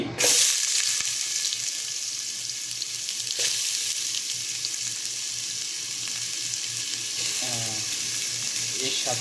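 Chopped onion fries in hot oil in a pan with a continuous, fairly quiet sizzling hiss, with a few faint scraping sounds near the end and no talking.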